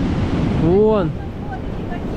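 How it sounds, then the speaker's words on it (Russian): Large sea waves breaking on the Turkish coast, a steady broadband wash of surf with wind buffeting the microphone, while people talk briefly nearby. "как тебе волны?"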